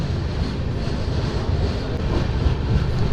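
A Telangana Express train pulls out of Mancherial railway station and picks up speed, giving a steady, loud rumble of wheels and carriages that grows slightly toward the end, with no voices.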